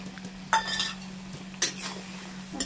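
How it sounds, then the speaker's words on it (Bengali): Prawns go into a pan with spice paste and are stirred, with a few utensil clinks and scrapes over a low cooking hum and a soft sizzle. "এবার দিয়ে দিচ্ছি চিংড়ি মাছ"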